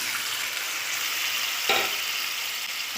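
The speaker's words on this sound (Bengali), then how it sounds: "এবারে সেই মাছের ঝোলটা ঢেলে দেব" Fish broth is poured into spice paste frying in a pan, setting off a loud, steady sizzle with a sharp burst of hissing as the liquid hits the hot oil partway through.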